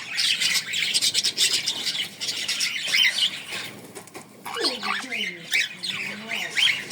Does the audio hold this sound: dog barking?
no